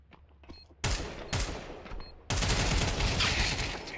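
AK rifle fire in a competitive video game match: two sharp single shots, then a sustained loud burst of rapid automatic fire, close and dense.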